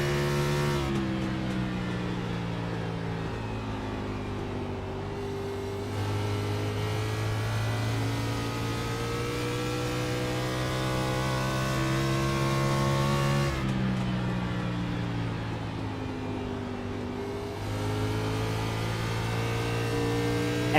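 An onboard race car engine during a lap in the Ignite Series 150 holds a loud, steady drone that climbs in pitch through the gears, drops sharply on shifts and lifts, then builds again.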